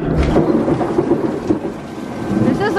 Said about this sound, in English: This is the worst storm we've had in all this year.